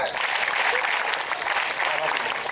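Applause from students at a school Children's Day prize announcement, a dense burst of clapping from a crowd, loud and sustained throughout, with some voices mixed in.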